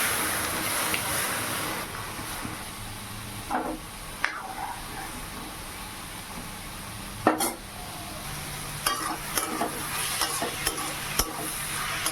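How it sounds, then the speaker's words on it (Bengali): Ash gourd frying in a pan over a steady sizzle, with intermittent scraping and clinks of a spatula stirring the pieces, close by; no talking. "এইদিকে দেখো আমার চাল কুমড়ো ভাজাও হয়ে এসছে আর একটু নাড়াচাড়া করলেই হয়ে যাবে"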